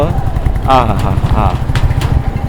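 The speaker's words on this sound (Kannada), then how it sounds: "ಈ ಹ್ಯಾಂಗಿಂಗ್ ಬ್ರಿಡ್ಜಲ್ಲಿ ಬೈಕ್ ತೊಗೊಂಡು ಹೋಗೋದು" A motorcycle engine putters at low revs while riding across a hanging bridge, a steady rumbling drone close by, with voices talking over it.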